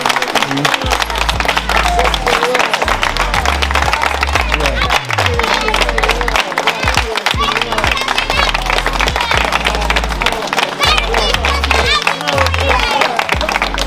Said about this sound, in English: Give a clap for the donors